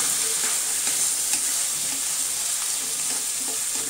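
Aromatics sautéing in a pan for pork kare kare, a dense, even hiss of frying that holds steady throughout, with faint stirring touches underneath and no talking.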